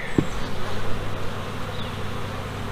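Honeybees buzz steadily around an open hive during a multi-hive inspection, a low continuous drone with a brief faint higher whine, close and moderately loud with no talking.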